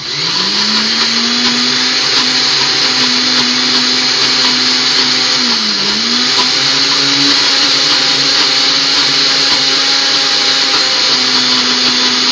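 A blender runs continuously, loud and close, chopping onion for oven-baked Greek gyros, a steady high whine with slight pitch dips as the blades work through the pieces.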